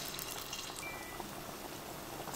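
Corn vada dough deep-frying in hot oil over a medium gas flame gives a steady, soft, hissing sizzle that holds at an even level throughout.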